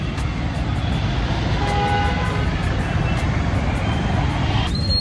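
Busy city road traffic with a steady roar of cars, trucks and buses, broken by a couple of short horn toots near the middle and again toward the end.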